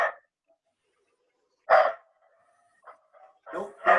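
A small dog barks in a few short, sharp bursts with quiet gaps between them, clear and fairly close, heard with no talk over it.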